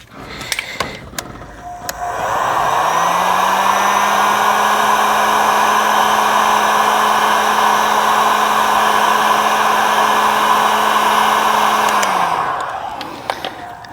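A heat gun runs for about ten seconds, shrinking heat shrink tubing during a repair on a small stock trailer. Its steady, close blower roar with a high whine rises, holds evenly and then cuts off, with brief clicks and handling noises before and after.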